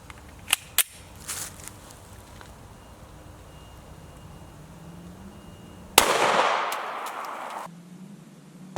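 A 9mm pistol fires a 124 grain Fiocchi jacketed hollow point at an outdoor range, with two sharp cracking shots early, then a loud blast and a noisy burst that fade after about two seconds.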